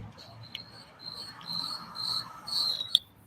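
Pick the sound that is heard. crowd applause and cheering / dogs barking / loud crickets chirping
loud crickets chirping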